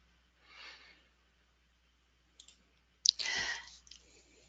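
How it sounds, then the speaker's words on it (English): A single sharp mouse click on an OK button at a computer, faint and close, following a soft breath, with a little rustle right after in a quiet room. "And then I'll click OK."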